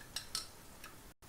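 Eggs whisked for an omelet give two or three quick, faint metallic clinks of a utensil against a bowl, soft and brief, without voices.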